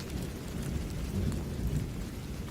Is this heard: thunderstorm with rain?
yes